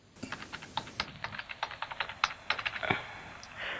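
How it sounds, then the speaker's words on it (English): Rapid, uneven keystrokes on a computer keyboard as a password is typed, a close run of crisp clicks with a few louder taps and a brief pause near the end. "Once you've typed in your password,"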